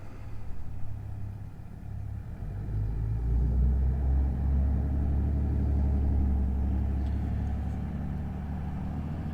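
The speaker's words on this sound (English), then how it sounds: "I'll put the helmet down and start up the scooter and get on the road." A scooter engine starts and settles into a steady low idle rumble, close by and continuous, with no talking.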